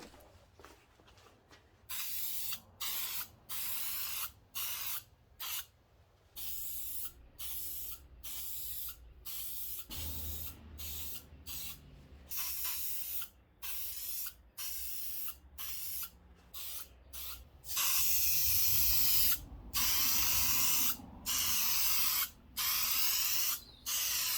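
Aerosol spray can applying several coats of SCA primer to an Alfa Romeo OZ Monza three-piece wheel, heard as repeated close bursts of hissing spray separated by short pauses, getting louder toward the end.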